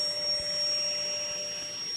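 A big, powerful belt sander with a 40-grit belt grinds across wooden shutters, giving a steady, loud whirring roar with a constant high whine and no breaks.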